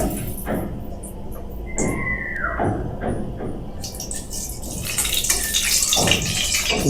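Hot oil in a home cooking pan with bay leaf, where trapped water makes it crackle and spit: a busy, close, uneven spattering and hissing that swells toward the end, with no talking.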